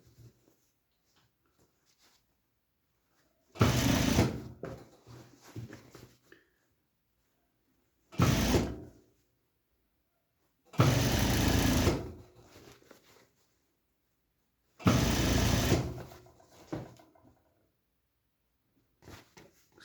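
An industrial-style sewing machine stitches a seam on an overall, running in four separate close, loud bursts of rapid whirring with quiet pauses between them and no talk.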